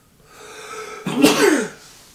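A single sneeze during a board game of Ali Baba, a sharp explosive burst after a short breathy intake, close and fairly loud, fading quickly.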